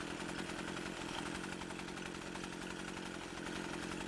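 A Stihl FS 80 string trimmer's small two-stroke engine runs steadily at a buzzy idle while warming up, loud and unbroken throughout, with no voices.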